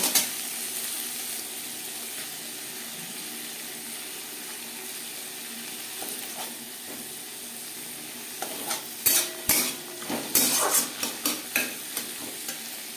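Vegetables, peas and a little egg frying in a pan for winter vegetable fried rice, with a steady soft sizzle throughout and a run of sharper stirring scrapes and clinks near the end.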